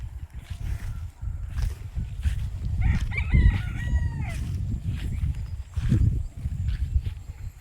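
Chickens and chicks forage in a farm garden among fruit trees. A rooster crows once near the middle over low rustling and bumping noises, heard moderately close.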